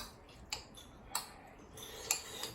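Sparse, light clinks of a utensil on a dish as finely chopped food is mixed into rice for budae jjigae, four or five small taps spaced apart in a quiet room.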